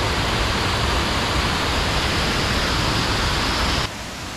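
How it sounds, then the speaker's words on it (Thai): The third tier of a waterfall near Luang Prabang roars as a dense, constant rush of falling water that drops slightly in level near the end. "แล้วเราก็มาถึงน้ำตกชั้นที่3"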